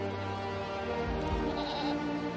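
A goat bleats once, a wavering nasal cry that rises and fades over about a second, fairly close over a low steady backdrop with music-like tones.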